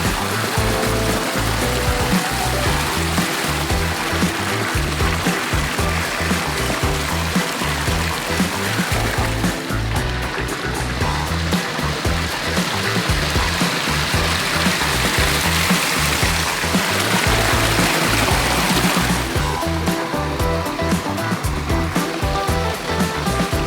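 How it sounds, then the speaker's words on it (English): Backyard pond waterfalls pour over rocks into a biofalls and pool, a continuous loud rushing and splashing of water, close and unbroken, with no voices. "beautiful waterfalls. And this is the sound and the view that you get from the upper deck over here."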